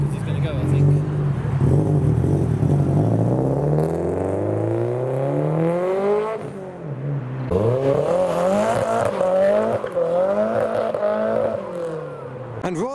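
A beige Toyota Soarer pulls away from a car meet at night, its engine revving and rising in pitch through the gears close by, with a second swell as it passes and other cars around.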